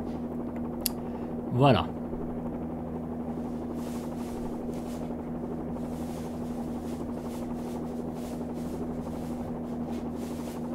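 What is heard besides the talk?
Bell 47G helicopter landing in X-Plane 11 video game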